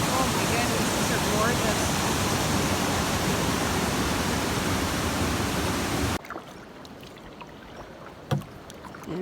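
A waterfall in the Temagami wilderness roars as a loud, steady rush for about six seconds, then cuts off abruptly to quiet surroundings with a few faint knocks.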